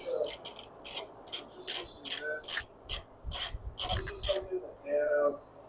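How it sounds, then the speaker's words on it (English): Screws on a 1967 Firebird or Camaro door being scrubbed clean of paint, a series of short scraping, rasping strokes in an uneven rhythm, close and moderately loud, with a few faint clinks of metal. "Give me a chance to clean these screws up and take off that paint."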